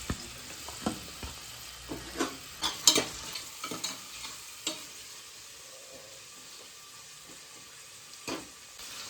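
Onions fried in oil for a home-cooked chicken dish, with a spoon stirring through them: a steady sizzle under a run of close scraping and clinking strokes that fade after about five seconds, with no talking.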